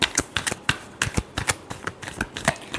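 Tarot cards riffle in quick rhythmic bursts, about a dozen sharp papery flicks over a few seconds, close and clear with no talking.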